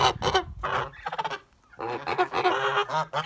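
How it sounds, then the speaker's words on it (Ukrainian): A goose calls close by in loud, harsh honks, two bursts of repeated nasal cries separated by a short pause. "Ну це більше по голосу на гусочка похоже."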